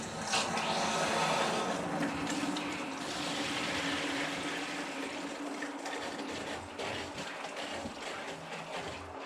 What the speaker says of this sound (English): let's fill up the water heater